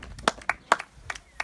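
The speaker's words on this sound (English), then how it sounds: "Give him a round of applause," A small audience claps sparsely at a casual gathering, with a handful of separate, fairly faint claps spaced unevenly rather than a full round of applause.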